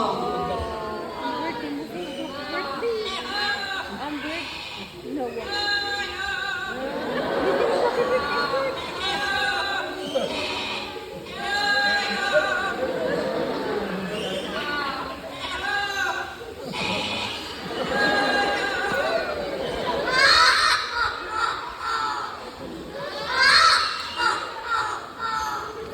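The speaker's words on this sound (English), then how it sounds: "listen carefully because Lani and Rudy will sing a happy birthday song" Two yellow-crowned Amazon parrots at a safari park in Cebu give a squawky, tuneful performance of a birthday song, their harsh warbling calls rising and falling continuously for about half a minute amid crowd noise.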